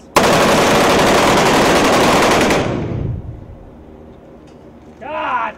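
Blank-firing guns on a film set for an action movie produce a loud, dense burst of automatic fire lasting about three seconds, then it cuts off and fades, and a voice speaks briefly at the end.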